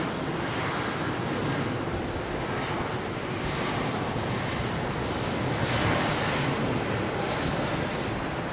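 Lufthansa Airbus A320neo jet with Pratt & Whitney engines at London Heathrow, a loud, steady engine roar with broadband rushing noise and a slight swell, heard nearby without voices.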